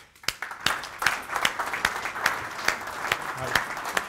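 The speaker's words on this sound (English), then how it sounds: "Please give him a big round of applause." An audience at a Startup Grind London event applauds a guest founder, a moderate burst of clapping with distinct individual claps standing out rhythmically over a few seconds.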